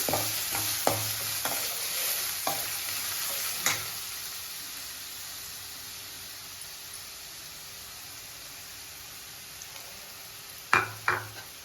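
Carrots frying lightly in a pan for carrot lemon rice, with a steady soft sizzle and several sharp clinks and scrapes of a spoon stirring, the loudest stir knocks near the start and at the end, no talking.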